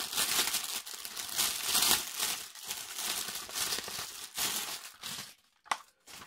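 A knife slices open the packaging of a parcel holding a Naruto figurine, producing close continuous crinkling and tearing of wrapping, loud throughout and easing off near the end.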